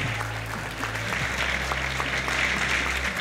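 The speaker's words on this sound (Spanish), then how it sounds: "Quiero que se ponga de pie, que le aplaudamos." Crowd at the inauguration of a skating rink breaking into steady applause, a full, continuous patter of clapping with a low background hum and faint voices mixed in.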